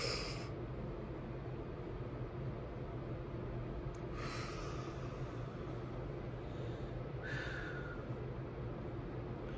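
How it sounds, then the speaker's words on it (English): Slow breathing in and out sits close against a steady airy background hiss, with a couple of brief audible breath pulls standing out. "Breathe in, breathe out."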